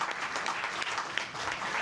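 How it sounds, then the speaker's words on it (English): A conference audience applauds a history and state-violence panel, a dense, steady wash of many hands clapping that fills the room evenly without a break. "I say give the panel a round of applause."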